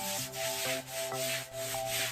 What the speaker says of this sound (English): used a really hard outdoor brush to give it a really good scrub